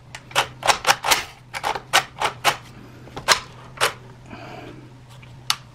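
A Hatsan Blitz .22 air rifle with a DonnyFL Emperor silencer and extension has its action cycled repeatedly, a quick series of crisp mechanical clacks and clicks up close, with a brief softer rustle near the end.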